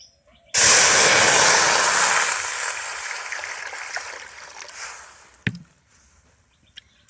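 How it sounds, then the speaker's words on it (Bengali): Water pours into a wok on a lit stove, a loud close rushing splash that starts abruptly and gradually thins out over several seconds, followed by a clank and quiet. "এবার কড়ার মধ্যে আমি জল দিয়ে দিচ্ছি।"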